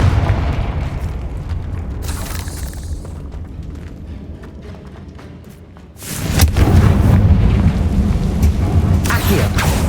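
A fiery Confringo spell blast in the Hogwarts Legacy game: a low rumbling boom that swells suddenly midway and roars loudly for several seconds after a quieter, murky stretch.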